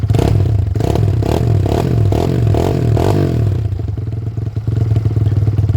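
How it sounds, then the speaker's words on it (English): A Kawasaki KLX110 fitted with a 143cc big bore kit idles and revs in short pulsing blips during engine break-in, loud and close, settling back to a steady idle. "you can rev it up a little bit just to make it sure it heats up a little bit quicker."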